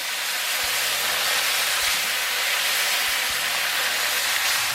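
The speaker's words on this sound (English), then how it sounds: "So now we'll start dropping in that marinated beef" Marinated beef stir-fried in the open air for Mongolian BBQ gives a loud, steady hiss of sizzling over a low rumble, continuous and close.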